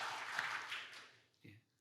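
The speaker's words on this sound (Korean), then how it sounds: "이 시간 우리 찬양팀에게 큰 박수 한번 보내고 싶지 않으십니까?" Church congregation applauding its worship team: a faint wash of clapping that fades away over about a second, followed by a brief voice.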